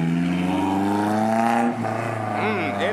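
A Honda S2000 at a cars-and-coffee meet in Houston, Texas, driving past with a steady, rising engine note that swells and shifts pitch as it passes, fairly close and loud throughout.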